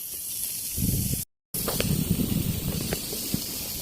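A steady, loud hiss of refrigerant leaking from the evaporator of a Panasonic inverter refrigerator runs throughout, briefly cutting out once, with faint rustling and clicks beneath it.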